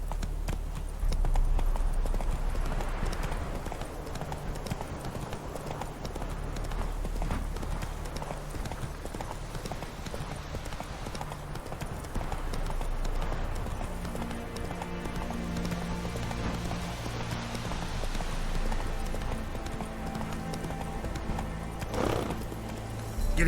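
Roach, a horse in The Witcher 3, gallops with rapid, rhythmic hoofbeat clip-clops close up, a brief whinny near the end and a voice speaking now and then.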